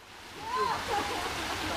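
Natural flowing water at a rural water park in Lembah Peri-Peri, Kediri, a steady rushing wash that swells slightly and holds, with faint voices and whistle-like tones mixed in.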